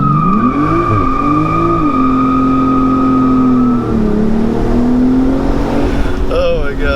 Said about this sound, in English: So I'm gonna do a brake torque launch, but not in S, so it's not gonna be a launch start.